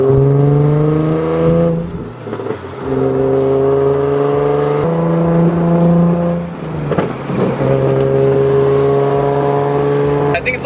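A Nissan car with a loud modified exhaust revs hard in sustained, droning pulls that rise and fall, with brief dips between revs; close and dominant throughout.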